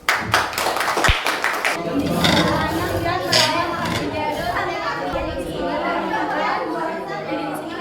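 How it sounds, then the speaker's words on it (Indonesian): Classroom clapping as students applaud a teacher's role-play of a market seller, a burst of hands with chatter and voices running over it throughout. "Berikan aplaus."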